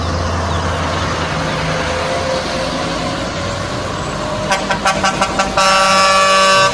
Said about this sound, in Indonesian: truk kontainer